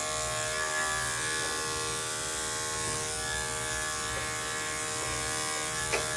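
Electric clippers fitted with a #7 blade buzz steadily and close while grooming a miniature poodle's matted face, a constant hum with faint brief touches against the coat.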